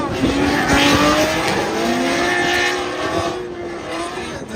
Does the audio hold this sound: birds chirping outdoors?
no